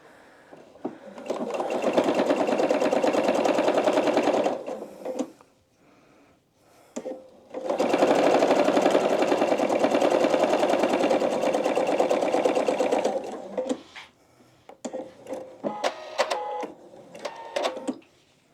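A sewing machine stitches quilt binding with a quarter-inch presser foot and a lengthened stitch of about 3.5, running in two long, steady whirring passes separated by a pause, then a few short, stop-start bursts at the end.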